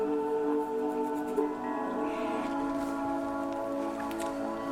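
Steady rain falls throughout, a constant wash of patter under a sustained tonal music bed, with no talking.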